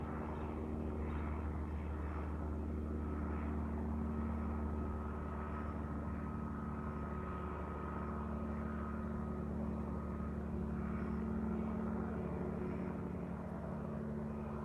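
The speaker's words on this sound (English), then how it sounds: "Currently counting 3 helicopters in the air," A continuous low rotor drone from three helicopters over a gasoline pipeline explosion site in Alabama hangs overhead, steady and moderately distant, with no talking.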